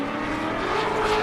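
A Chevy Corvette drift car at the LS Fest West drift qualifying roars down the straight with a loud, continuous engine note rising slightly in pitch.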